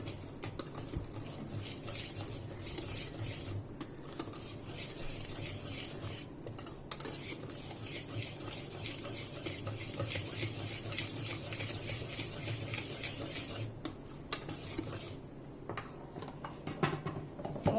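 Orange cake batter being whisked by hand in a bowl for an upside-down cake, a steady run of light clinking and scraping strokes close by, continuing without pause and with no talking.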